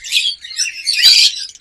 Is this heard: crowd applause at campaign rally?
no